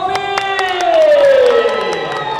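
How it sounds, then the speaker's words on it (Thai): Stage audience at a cat food booth event claps and cheers for a guest, a lively wash of applause and shouts under a loud voice and tonal sounds, with sharp repeated hits and a falling sweep. "ขอเสียงปรบมือกับน้องโท"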